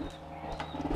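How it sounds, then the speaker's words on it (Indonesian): A homing pigeon in its loft coos during courtship, a low soft repeated cooing close by, with faint background noise and no talk. "Kebetulan ini merpatinya sedang giring"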